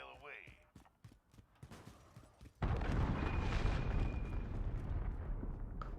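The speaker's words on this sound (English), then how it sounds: "Allied cruise missile away." A cruise missile launches in a video game: after a quieter, choppy stretch, a sudden loud roar bursts in and holds as a sustained, rushing blast for several seconds.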